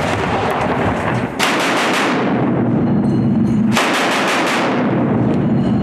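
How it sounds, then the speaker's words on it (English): Artillery shelling on a Ukrainian front line: two very loud, close booming blasts, each followed by a long rumbling decay, filling the whole stretch with no talk. "When the shelling stops for a while,"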